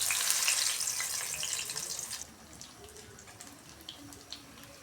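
Pumpkin flower fritters dipped in batter and dropped into hot oil, with a loud steady hiss and crackle at first that eases to a quieter fry dotted with pops.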